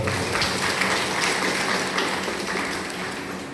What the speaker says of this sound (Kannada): ಮಾತಾಡಿದಂತಹ ಎಲ್ಲ ಮಕ್ಕಳಿಗೂ ಒಂದು ಚಪ್ಪಾಳೆ ಬರ್ತದೆ